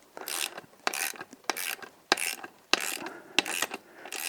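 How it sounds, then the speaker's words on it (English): A torque wrench ratchets in short, sharp clicking bursts as beadlock wheel bolts on RRW hybrid mono-forged wheels are slowly tightened to spec, with about a dozen close, crisp strokes and brief gaps between them. "As you can see, you're, very slowly torquing everything to spec."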